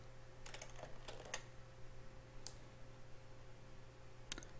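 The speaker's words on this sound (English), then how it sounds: "I will show you how to type it out." Keys clatter on a computer keyboard in a few quick bursts of typing, faint and close against a steady low hum, with no voices.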